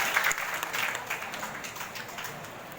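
An audience at the 113th general meeting of the Bhadran People's Co-operative Bank claps in sustained applause that gradually fades over about three seconds.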